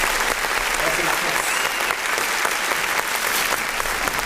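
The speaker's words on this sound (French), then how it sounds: "Vous pouvez applaudir Mr. Lorenz, s'il vous plaît." An audience applauds continuously, a dense, loud, steady wash of clapping filling the room with no break.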